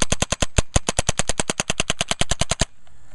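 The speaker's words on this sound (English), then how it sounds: "A little dry fire here. Show them the speed." Planet Eclipse Ego 2020 prototype paintball marker dry firing at high speed, a loud, close string of about twenty sharp pneumatic snaps in rapid, even succession before a short hiss of escaping air.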